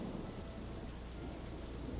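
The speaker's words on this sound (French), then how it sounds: "elle voit qu'il commence à pleuvoir doucement et que ça n'a pas l'air de s'améliorer" Steady rain falls with a dense, even hiss and rumbling texture, a constant wash of drops with no voices.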